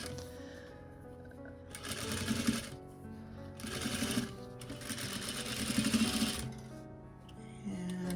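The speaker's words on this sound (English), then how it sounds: "I'm just doing this on my regular sewing machine with the zipper foot." A regular domestic sewing machine fitted with a zipper foot stitches in three steady bursts of rapid mechanical whirring and clatter, separated by short pauses, close and moderately loud.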